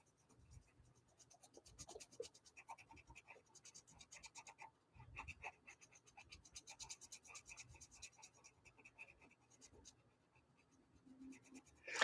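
Colored pencil scratches rapidly back and forth across paper in quick, quiet, rhythmic strokes with brief pauses between bursts.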